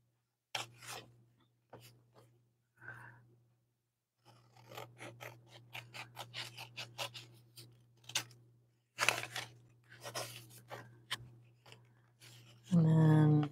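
Scissors cutting out paper for an art journal, a series of crisp snips and slicing strokes in short bursts with pauses between, close and clear, ending in a louder rustle.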